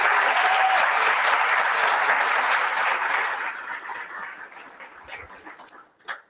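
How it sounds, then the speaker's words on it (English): An audience at the University of Tampa's Leadership Awards Night 2023 claps for Dr. Deirdre Dixon, a loud, dense round of applause that holds steady for a few seconds before thinning out and fading to scattered claps. "Please join me in one more round of applause for Dr."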